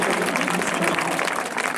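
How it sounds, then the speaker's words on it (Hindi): Audience applause at a memorial trust competition prize event: a short burst of dense, loud clapping from a crowd, steady across its length. "एक बार कल को जोरदार ताली बजा दीजिए।"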